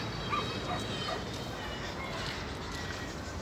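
A dog barking in a cemetery, heard over a steady broadband outdoor hiss with faint bird-like chirps, somewhat distant and fairly quiet.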